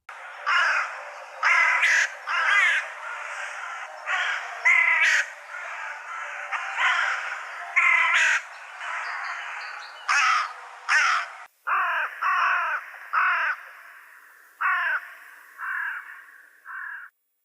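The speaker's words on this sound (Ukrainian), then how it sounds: "Пропоную послухати, як співає гава." Repeated jackdaw caws, harsh and fairly loud, arriving in irregular bursts of one to three calls with short pauses between them, no talking.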